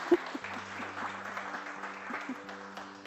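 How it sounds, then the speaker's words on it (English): Meeting participants at a regional consultation in Karamoja applaud together, a soft, steady patter of clapping heard at a distance with a low hum underneath. "Let's clap for ourselves."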